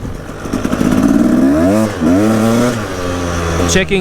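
Husaberg TE 300 two-stroke dirt bike engine on a test ride, loud and close, revving with rising and falling pitch sweeps as the throttle is worked, steady motor drone throughout.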